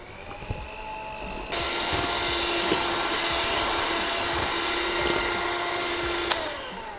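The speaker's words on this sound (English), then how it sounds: "starting our mixer on low." Stand mixer running on low as it beats 400 grams of powdered sugar into a carrot cake frosting, a steady whirring drone that starts abruptly and holds at an even level, with a couple of faint clicks and no talking.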